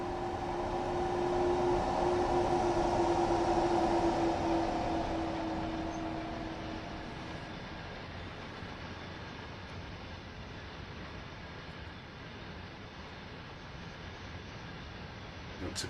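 A TGV Duplex high-speed train in Train Sim World 2 running along the line, a steady rumbling roar with a tonal whine that fades to quieter track noise, continuous and without speech.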